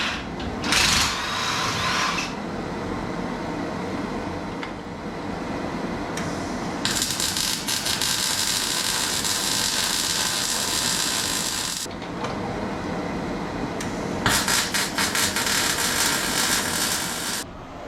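An arc welder runs on truck spring perches in long steady buzzing, crackling runs, broken by short pauses and a few clanks, with no talk.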